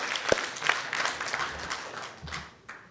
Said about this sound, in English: let's give a round of applause for PH Colo.